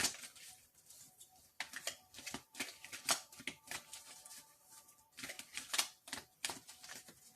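A deck of Crystal Grid oracle cards is shuffled by hand nearby: quiet, uneven bursts of riffling and snapping card edges, with short pauses between shuffles and no talking.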